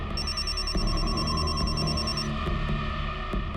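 A mobile phone rings with a repeated bright electronic tone for about two seconds, then stops, over a busy indoor background hum in a crime drama scene.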